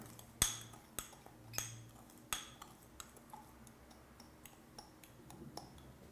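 Metal spoon clinking against a lab container while a mixture is stirred, several sharp, separate taps spaced irregularly, close and fairly quiet, then fading to softer ticks.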